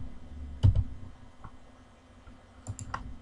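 Typing on a computer keyboard while entering values into a simple Visual Basic sales form, a few soft clicks and short bursts of keystrokes, close and quiet, with no talking.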